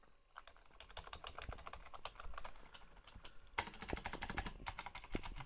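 Keys clatter on a Razer BlackWidow Tournament Edition 2014 mechanical keyboard, sparse at first, then faster bursts of sharp, close clicks, quiet overall.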